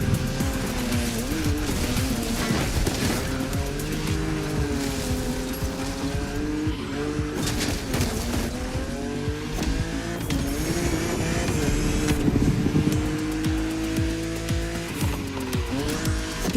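A BMW Z roadster, a two-seater, races in The Crew Motorfest, its engine droning and revving loudly and continuously while tires squeal and skid through corners.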